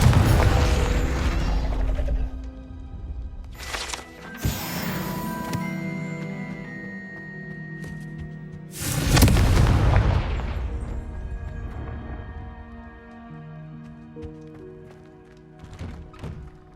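Confringo explosive spell blasts in Hogwarts Legacy, several heavy booming impacts spread apart, the strongest at the start and another around midway, each decaying with a ringing tail between quieter thuds and clicks.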